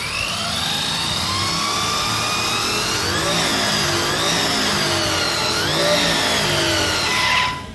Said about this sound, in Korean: 공회전 시켜보도록 하겠습니다